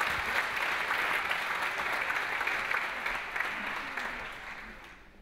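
Audience at a medical research awards ceremony in Belgrade claps for a speaker taking the stage, a full, even burst of applause that holds steady and then tapers off at the end.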